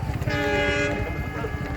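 A train on the Vighanwadi to Rajuri railway test run sounds a long, loud horn blast over a steady rumble of the moving train, heard close and alone.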